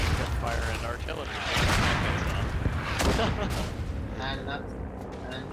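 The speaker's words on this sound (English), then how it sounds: "I can't hear anything but the sound of machine gun fire and artillery" Dense, continuous machine gun fire and booming artillery in the WWI shooter Verdun, a chaotic barrage of overlapping shots and blasts with voices talking over it.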